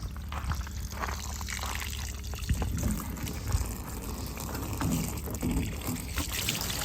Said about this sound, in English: over there is where the water comes out of the ground, and then it comes into a pump, or it comes into a hose over to here